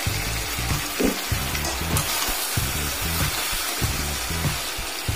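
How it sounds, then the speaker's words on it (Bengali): Boiled soybeans dropped into a pan of frying potato and papaya curry, with a steady close sizzle and rhythmic stirring scrapes throughout, no voices. "আমি এক প্যাকেট সয়াবিন নুন জলে সেদ্ধ করে রেখেছিলাম সেটা এখন আমি দিয়ে দিচ্ছি।"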